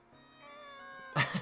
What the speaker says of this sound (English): It's a fucking cat.